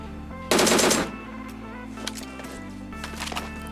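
Gunfire from an enemy kill in PUBG Mobile: a loud close automatic burst of about half a second, followed by fainter scattered shots and game sounds.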